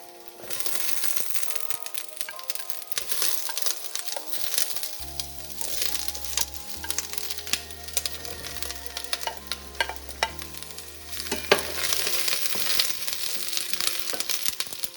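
Vegetables are stir-fried in a wok for a Chinese New Year dish, with a bright continuous sizzle, repeated scraping and tossing, and background music underneath.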